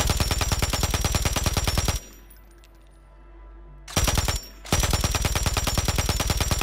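Striker gun firing in Warzone, a loud rapid rattle of repeated shots in long bursts, broken by a short pause and a brief extra burst.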